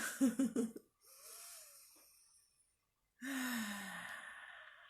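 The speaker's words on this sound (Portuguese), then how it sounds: "Vou dar outra respirada." A person takes a deep, audible breath indoors: a voiced sigh-like exhale, a slow airy inhale, a pause, then a long breathy exhale, all fairly quiet and close.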